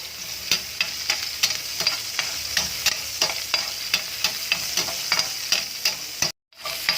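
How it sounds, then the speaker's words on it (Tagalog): Onion and garlic sauté in oil in a pan for pansit guisado with egg noodles. Brisk, close stirring scrapes and clacks repeat over a constant sizzle, with a brief dropout near the end and no speech. "Igigisa na natin ang ating gulay. Sasabayin ko na yung sibuyas at bawang."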